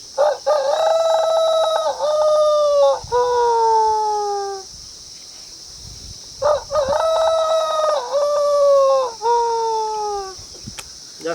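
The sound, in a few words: man imitating a rooster crowing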